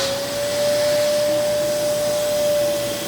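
A Kenmore Progressive vacuum cleaner runs at max suction, a loud, steady motor whine with a constant pitched tone and rushing air, close by and uninterrupted by voices.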